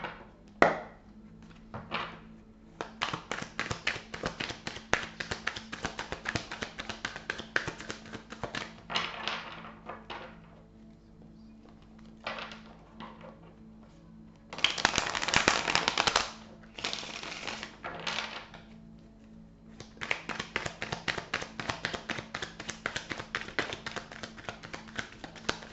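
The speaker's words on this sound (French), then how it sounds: "Je suis désolé si vous entendez du bruit autour, c'est qu'il y a des travaux." Nearby construction work gives off irregular bursts of tapping and knocking that stop and start, with a louder, denser stretch of clatter midway, heard from indoors at moderate distance with no one talking.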